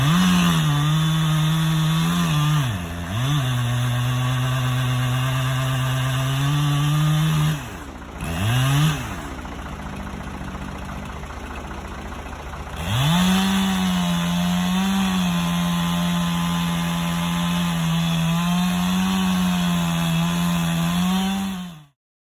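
A chainsaw fells a tree beside a shop under construction: a loud, close engine drone that dips twice, eases to a lower idle-like stretch midway, then revs back up and runs steadily until it cuts off. No one speaks.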